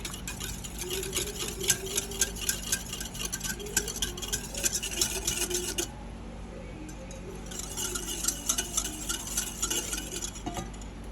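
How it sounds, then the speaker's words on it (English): Homemade goat milk lotion mixture stirred in a container, heard as rapid rhythmic scraping and clinking of a utensil against the sides, close up, pausing briefly midway before resuming, with no talk. "Then I'm going to stir."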